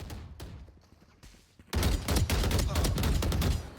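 Shooter video game gunfire: a few scattered shots, then a sudden loud sustained fusillade of rapid bursts, close and dense, with faint voices underneath.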